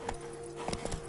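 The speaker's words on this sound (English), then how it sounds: "Whoa there, Roach." Horse hooves clip-clop on the ground in the video game The Witcher 3, a short burst of several quick, close footfalls over a steady game ambience.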